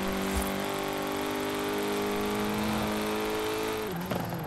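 A car in the video game Forza Horizon 4 holds a steady, loud engine drone with a high whine, then the pitch drops sharply near the end.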